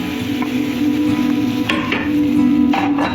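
Peanuts and coconut fry in oil in a kadai, a loud, close, steady sizzle with scattered clinks and scraping taps of a utensil against the pan, no talking.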